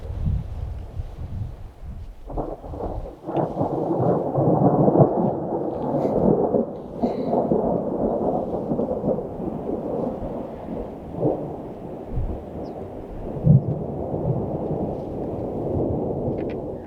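An afternoon thunderstorm rolls in with deep, sustained rumbling thunder over steady rain, loud and continuous, with a few sharper cracks scattered through.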